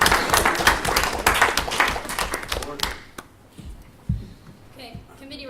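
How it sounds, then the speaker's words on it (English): Applause at a student senate meeting, a dense burst of clapping that fills the first three seconds, then cuts off into quiet room sound with a few faint knocks and a voice. "I would like to have everyone give a round of applause"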